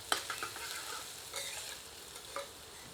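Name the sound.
onion, garlic and ginger being stirred and fried in a pan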